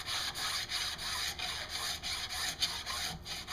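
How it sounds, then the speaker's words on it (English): A hand file works the edge of a PVC machete sheath in quick, even back-and-forth strokes, each rasping pass separated by brief pauses, close and clear with no talk. "I decided instead to use the file just because I don't want to take too much on."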